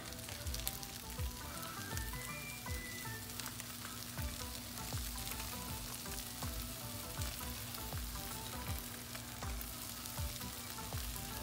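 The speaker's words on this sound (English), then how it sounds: "So we're looking good there, sizzling away" Potato hash on low heat, sprinkled with Gouda cheese, sizzles steadily in a pan: a dense, even crackle throughout with occasional light stirring ticks, close and fairly quiet.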